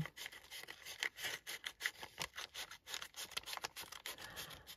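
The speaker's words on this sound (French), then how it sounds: "je vais prendre mes ciseaux. Donc je coupe hors caméra" Scissors snip through a large paper envelope in quiet, close repeated cuts, each a short crisp rasp in an uneven rhythm, with soft paper rustling in between.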